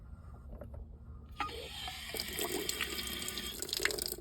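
Water starts gushing from a repaired outdoor spigot fitted with a push-on fitting after a broken line from cold weather, a sudden rushing splash that continues steadily, fairly close.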